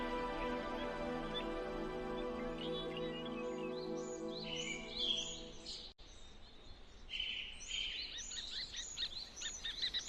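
Morning birdsong in a forest on Gaoligong Mountain: a dense chorus of chirps and trills, first over a sustained tonal drone, then layered calls from several birds at moderate distance continuing steadily.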